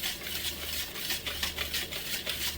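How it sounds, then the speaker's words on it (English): Whisk beating dry ingredients with ground cinnamon in a bowl, quick rhythmic scraping strokes repeating about every half second, close and fairly quiet. "I'm going to whisk all this together"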